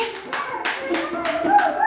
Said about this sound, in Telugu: వెరీ గుడ్ క్లాప్స్ కొట్టండి వాడికి